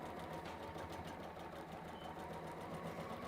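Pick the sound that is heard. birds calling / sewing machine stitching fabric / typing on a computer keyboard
sewing machine stitching fabric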